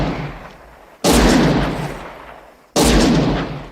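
Two loud gunshots ring out in a Clint Eastwood Western film scene, about a second and a half apart, each a sharp blast that decays slowly with a long echoing tail.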